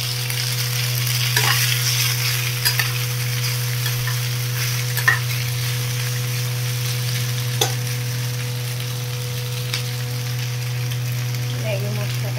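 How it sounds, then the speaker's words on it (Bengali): Pasta sizzles and fries in a pan with onion and capsicum, a steady close crackle with occasional stirring scrapes, no one talking. "বয়েল পাস্তাটা দিয়ে দিলাম।"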